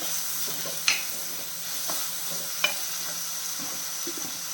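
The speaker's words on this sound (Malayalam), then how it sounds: "കുറച്ച് കറിവേപ്പില ഇട്ട് കൊടുക്കുന്നത് കറിവേപ്പില കുറച്ച് കൂടുതൽ എണ്ണ ഇട്ടോളാം" Curry leaves fry in hot oil for a Kerala-style crab dish, a steady close sizzle with a couple of sharp spatters and faint stirring, no talk.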